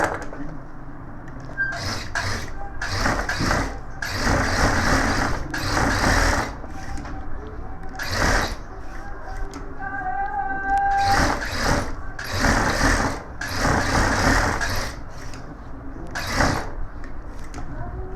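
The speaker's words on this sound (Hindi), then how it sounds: "तो दोस्तों, अब हम इसको सिलाई करेंगे।" A sewing machine stitching the front pocket of a suit runs in repeated short bursts with brief pauses between, its whirring, rattling mechanism close and steady.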